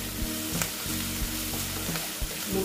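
Ginger, garlic and onion fry in oil for a pomfret curry, a close, bright sizzle broken by regular stirring scrapes and light clicks of a spatula against the pan, with no voices.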